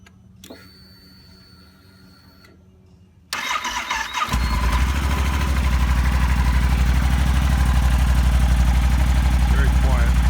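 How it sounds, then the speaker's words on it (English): A 2012 Yamaha Super Tenere motorcycle with its stock exhaust starts with a short crank, then settles into a steady, close, even idle that continues to the end. "we have here a 2012 Yamaha Super Tenere. This is a stock exhaust or boat anchor, whichever you prefer"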